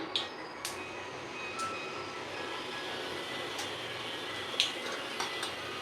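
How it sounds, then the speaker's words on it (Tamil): Mustard seeds popping in hot oil in a kadai, with scattered sharp crackles and pops over a steady sizzle, fairly close and alone. "கடுகு நல்லா பொரிஞ்சிருச்சு"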